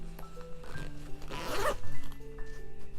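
The front panel zip of a LÍLLÉbaby All Seasons baby carrier is pulled down in one quick, close rasping zip, framed by soft fabric handling and faint background tones.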